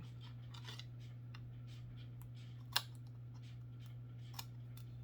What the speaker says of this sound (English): just go ahead and take your scissors and just try to even it out, like cut whatever is overlapping